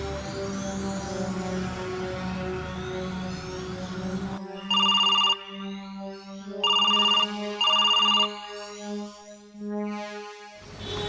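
A phone ringing while a friend is called, first a muffled, busy-sounding ringback, then a loud electronic ringtone in three bright bursts with short pauses, close by, no voices.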